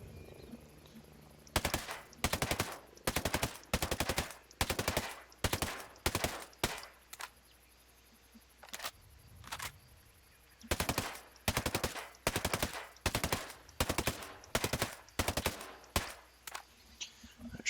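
Assault rifle gunfire in Ghost Recon Breakpoint comes in many rapid, evenly spaced bursts and single shots, punchy and close, with a brief pause near the middle before firing resumes.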